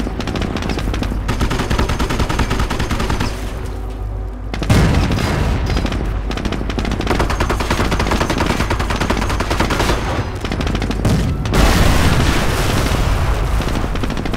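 Battle in the World War II strategy game Company of Heroes, with dense continuous gunfire, machine-gun bursts and heavy booming explosions, loud and unbroken throughout with a sharp blast partway through.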